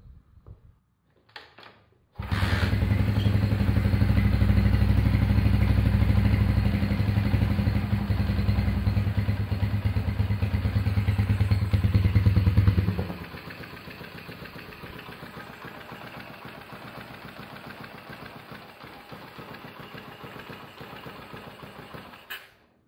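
A restored 1970 Honda CB100 K0 motorcycle engine fitted with a borrowed PE28 carburettor starts after a few clicks and runs loud and close with a rapid popping beat, then drops to a quieter, steady idle.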